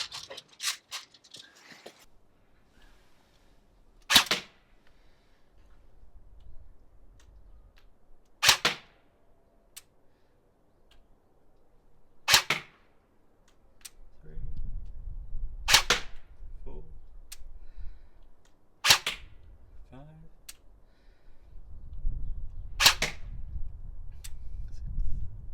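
A Cyma CM.045A AKSU airsoft replica fires 0.25 gram BLS precision BBs in six sharp, evenly spaced single shots about four seconds apart, with light handling noise and faint rustle between shots.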